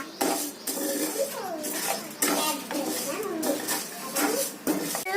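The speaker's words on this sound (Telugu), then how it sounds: "ఇప్పుడు నేను కళాయి తీసుకొని మిరపగుండలు వేయించుతున్నాను" Dried red chillies roast in a kadai while being tossed, giving rattling metal scrapes and clatter beneath a voice talking over most of the stretch.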